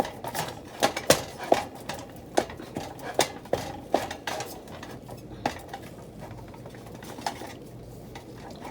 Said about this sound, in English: I'm just mixing it using my muscles.